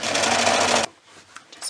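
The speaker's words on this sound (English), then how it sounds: "And stitch across." Sewing machine stitches across the base of a fabric tea wallet in one loud, steady run of under a second before stopping abruptly, leaving quiet room tone.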